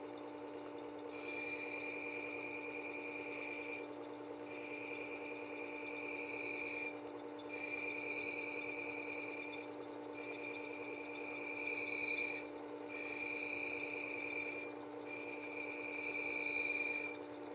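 Steady rasping strokes of a chisel or plane iron bevel rolled across a sharpening stone, about seven even passes separated by brief pauses, close and clear with a constant hum beneath and no talking.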